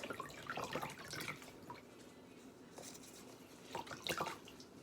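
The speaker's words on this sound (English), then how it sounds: "Now we're going to rinse all those areas." Water runs and drips while areas are rinsed off, in short uneven bursts of splashing with quiet gaps between, close and fairly soft, no voices.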